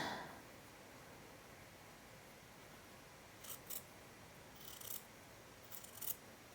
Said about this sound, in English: I'm just going to use my scissors, and I'm going to trim that down